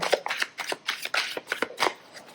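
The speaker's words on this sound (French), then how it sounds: "Je vais juste le remélanger encore une fois" A deck of oracle cards being shuffled by hand, quick soft riffling flicks in a steady rhythm, close and quiet with no talk.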